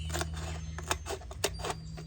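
Scissors clicking and rustling as they cut around the outside of a container lid, giving a few sharp snips and light handling clatter over a low steady hum.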